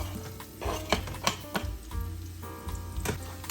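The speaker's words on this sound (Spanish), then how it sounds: "ya el aceite se ha calentado y voy a agregar la cebolla" Chopped onion drops into hot oil in a pan for pumpkin rice, setting off a steady sizzle broken by several sharp clinks and scrapes of a utensil against the cookware.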